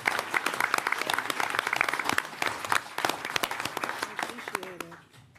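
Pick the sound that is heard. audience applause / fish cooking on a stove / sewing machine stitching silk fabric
audience applause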